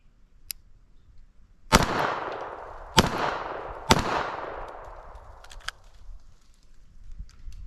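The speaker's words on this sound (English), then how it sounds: "Take a couple more shots at that 4x6 card." A pistol fires three sharp shots at a card 15 yards away on an outdoor range. The shots come about a second apart, each loud crack followed by a fading echo, with faint background noise in between.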